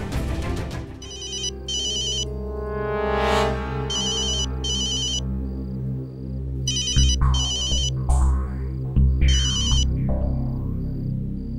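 A mobile phone ringtone plays loudly and close, a synthesized melodic tune with repeating bright electronic beeps over a sustained tonal backing, heard alone without any speech.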